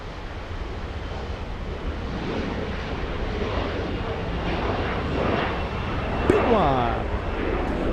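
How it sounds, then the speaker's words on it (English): A Delta A350 airliner arriving at LAX from Shanghai gives a steady, broad engine roar that holds evenly for about eight seconds and swells slightly toward the end. "Delta 38, A350, flying in from Shanghai."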